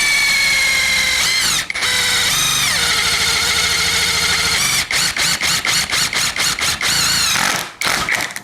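WORCRAFT CIS-S20LiBH 230Nm cordless impact driver boring into steel: a loud, steady motor whine that dips once early, then stutters in rapid on-off bursts near the end as the trigger is feathered.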